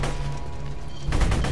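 Rapid bursts of gunfire from Borderlands 2 game combat, a loud sustained volley of shots followed by heavier, sharper blasts near the end, with no talk.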